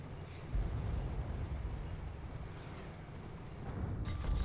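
Cannon fire traded between warships and a galleon in a naval battle video game, heard as a continuous low rumble of booming shots with a few sharper blasts near the end.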